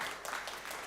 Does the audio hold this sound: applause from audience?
yes